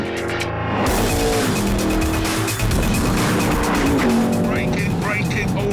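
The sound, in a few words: Noble M600 car braking hard on a track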